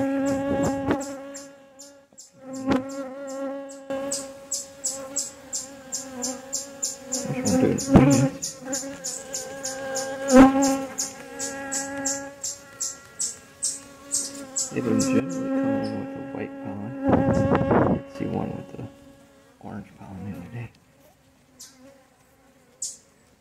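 Honeybees buzz during a hive relocation from a house, a close droning hum that rises and falls as individual bees fly past, with brief louder bursts and handling noises among them.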